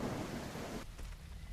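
Steady rain with a low thunder rumble falls across a prehistoric landscape in an Allosaurus survival game, loud and continuous before easing into a quieter, duller wash of rainfall.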